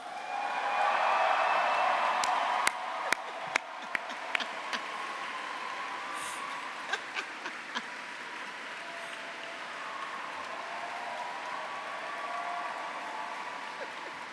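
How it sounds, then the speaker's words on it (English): Graduation audience inside Canterbury Cathedral breaks into sustained applause, a dense wash of clapping that starts loud and stays steady for the whole stretch with a few sharp individual claps standing out. "I need a louder, more raucous round of applause."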